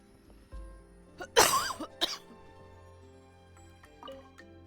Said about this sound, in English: I have picked up a cough again.